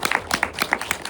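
An audience in a KT&G Sangsangmadang cinema hall claps for the band after a music commentary talk, a short, close burst of brisk, overlapping handclaps.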